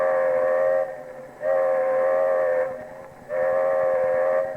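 A Lionel model train whistle sounds the train-parted signal: three loud, steady chime blasts, each about a second long, with short gaps between them and no voices.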